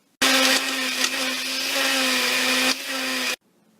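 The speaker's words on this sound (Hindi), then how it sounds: "ऑनियन डाल के इनको ग्राइंड कर लेते हैं" An electric grinder pulverising mixed whole spices with onion into paya masala powder, a loud close whirring burst of about three seconds with a slight dip in pitch near the end before it stops.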